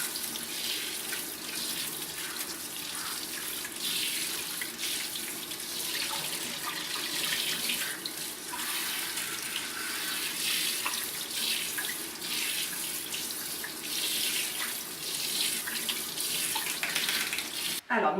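Tap water runs steadily and splashes continuously while a dog is rinsed during a bath, a close, broadband watery rush that holds at an even level for the whole stretch.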